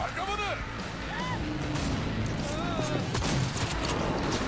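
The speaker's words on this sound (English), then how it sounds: "then these people start shooting you" Enemy gunfire in Cyberpunk 2077 on a PS4 Pro, with bursts of rapid shots and whizzing sounds of moderate loudness mixed under a person talking.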